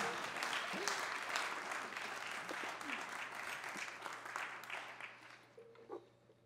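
A concert audience at a show claps in a sustained round of applause that tapers off toward the end, with faint voices underneath as it fades.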